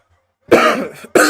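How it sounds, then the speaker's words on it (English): A single harsh cough close to the microphone, a brief double burst from someone with pollen allergies during a live NFL Draft commentary stream. "My apologies for the cough."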